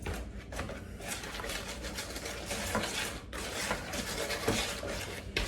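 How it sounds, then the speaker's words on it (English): Steady scraping and tapping of a whisk stirring packed brown sugar with oil in a bowl, continuous soft metallic clatter at close range. "I'm going to use this whisk."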